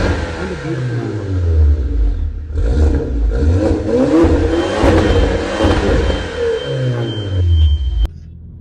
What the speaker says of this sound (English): a beautiful, perfect, wonderful roar from an exhaust system specifically to generate sound